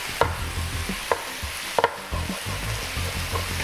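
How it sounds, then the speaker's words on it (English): Sauteing in a pan ahead of adding chopped garlic, a steady close sizzle with a few sharp clicks and stirring knocks of utensil against pan, no talk. "I'm just going to saute this for a moment"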